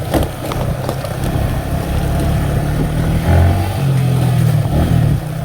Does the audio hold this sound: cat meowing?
no